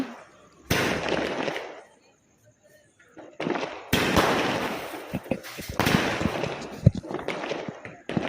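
A Diwali string of firecrackers goes off in loud crackling volleys, with a short quiet gap between them and a few sharp pops standing out near the end.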